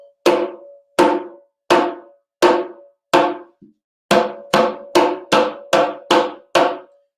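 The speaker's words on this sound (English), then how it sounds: "But the slap sound sounds like this." Sharp, bright slaps struck on the edge of a hand drum, spaced evenly at first, then quickening into a faster run of crisp, cutting hits, each one close and loud with a short decay.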